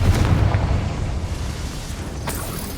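A Confringo blasting spell goes off in Hogwarts Legacy, a dense rumbling boom that rolls on steadily with a sharper burst near the end, no talking.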